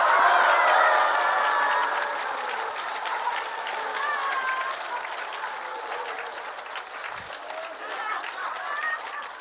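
A church congregation at a Korean revival meeting claps and cheers continuously, a thick wash of hands and raised voices that holds steady, tapering a little over time, with shouted voices blended into the applause.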